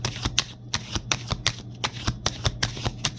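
Tarot cards are shuffled by hand, giving about a dozen crisp, close riffling snaps in a quick, slightly uneven rhythm, with no talk.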